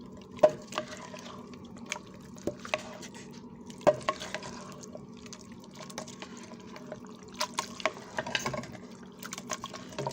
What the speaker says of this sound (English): Just gonna stir it now.